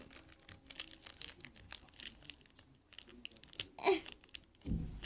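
Crinkly plastic rustles and crackles in short, uneven bursts close by, with a sharper tearing crunch toward the end.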